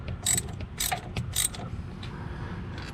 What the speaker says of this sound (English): Here I have a little 13mm socket, small extension, and getting the steering shaft bolts out.